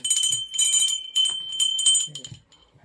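Temple bell at Shirdi rung in several bright metallic bursts with a ringing tone, loud and close, fading near the end as low voices murmur in the background.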